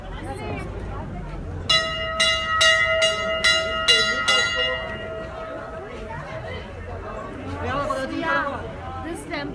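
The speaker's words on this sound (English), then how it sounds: "Everyone's just ringing bells everywhere." Temple bells at Baba Mandir ring in a quick series of bright metallic strikes with long ringing tones, surrounded by crowd chatter and voices talking nearby.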